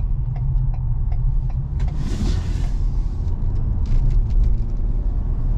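Ford Explorer Police Interceptor cruising steadily, with a continuous low engine and road rumble under a quiet cabin, a brief whoosh midway during the U-turn and faint ticking clicks scattered throughout.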